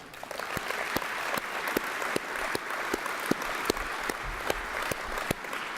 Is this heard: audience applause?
yes